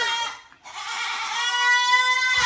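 Several young goat kids bleat loudly and insistently, calling with near continuous cries, one pausing briefly before another long bleat rises, close to the listener on a farm.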